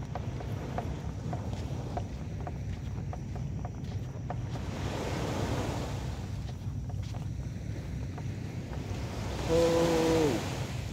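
Ocean waves roll in at high tide, a steady broadband wash of surf with wind buffeting the microphone, swelling slightly midway, and a brief tonal whine near the end.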